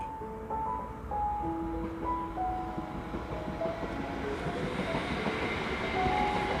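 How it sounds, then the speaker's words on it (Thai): A train rolls past a park in Bingen, Germany, in autumn: a loud, steady rumble with drawn-out tonal squeals layered on top, lasting the whole stretch with no talking. "เห็นรถไฟ"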